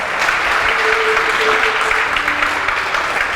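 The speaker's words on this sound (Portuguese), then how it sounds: "aplaude com vontade" A church congregation applauding enthusiastically, a dense, loud, sustained wash of clapping with a faint tonal hum underneath and no talk.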